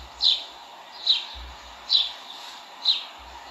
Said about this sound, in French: Et les petits oiseaux, en fait, ils sont tous nichés un petit peu autour des terrasses.